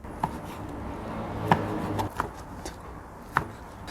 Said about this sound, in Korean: 이렇게 도마로 옮겨준 걸 똑같이 썰어줍니다.